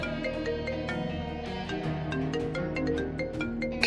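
A phone rings indoors in a tense domestic scene, a steady electronic ringtone melody looping continuously at moderate volume with no voices over it.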